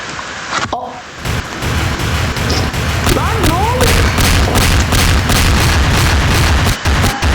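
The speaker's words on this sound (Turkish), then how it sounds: "yine de kocaman bir patlama" A heavy, sustained rumbling blast with crackling debris, loud and continuous, like a large explosion in game audio, with a voice briefly heard; a building fire explosion in Garry's Mod FNaF roleplay.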